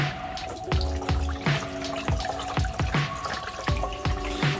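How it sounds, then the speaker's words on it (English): Coolant drains from an Audi S1 Quattro engine during a water pump and thermostat replacement, a steady run of close, regular drips landing roughly every half second over a constant trickling background, with no talk. "it's draining this fluid now"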